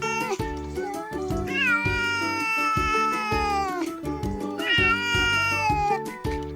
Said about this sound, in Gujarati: ચાલો આપણે બિલાડીનો અવાજ અને તેનો વિડીયો જોઈએ